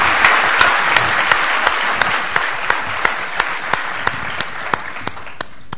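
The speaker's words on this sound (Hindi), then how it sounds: "इस आंदोलन के सम्मान में एक बार जोरदार तालियां बजाइए" Audience applause at a Hindi kavi sammelan poetry gathering, a loud dense burst of many hands that thins out into a few distinct, spaced claps toward the end.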